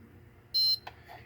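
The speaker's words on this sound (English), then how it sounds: "as you can see, this alarm just went off" A small electronic alarm sounds a single short, loud beep when a finger touches a bio-electricity sensing gear, followed by a faint click.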